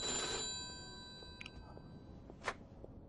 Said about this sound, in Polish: O, i jest telefon. Odbierz telefon.